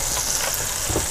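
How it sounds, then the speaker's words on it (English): Battered bacon fries in a pan, giving a dense, steady, close sizzle with crackling pops and no voices. "frying some bacon today"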